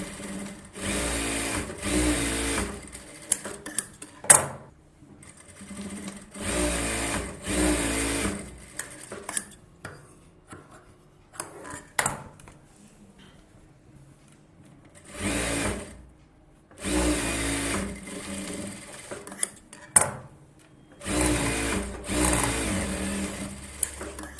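A sewing machine stitches a collar neck blouse in repeated close, rapid whirring runs of a few seconds each, separated by quiet pauses with small handling clicks.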